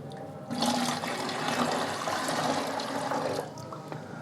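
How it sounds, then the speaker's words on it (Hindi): Clean water pours into a container of liquid fertilizer, a steady gushing splash that starts abruptly and runs for about three seconds, close and moderately loud with no speech. "1 लीटर इसमें हम साफ पानी मिला देंगे।"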